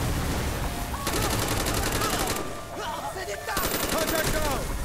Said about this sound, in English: you hear gunfire in the background